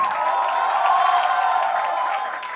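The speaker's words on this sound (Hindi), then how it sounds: "जोरदार तालियां बजनी चाहिए नायाब।" A poetry event audience keeps up loud, sustained applause with some cheering, and a host's voice is heard over it as it begins to fade at the end.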